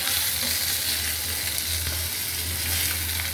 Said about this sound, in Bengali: আমি এখন পুঁটি মাছটা একটু ভাজা নিব